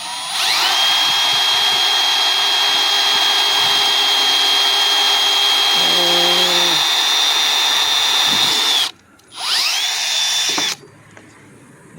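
Power drill boring holes through thick plastic, a loud close high whine running steadily for several seconds with a pitch shift as it bites, then a short pause and a second brief burst before stopping.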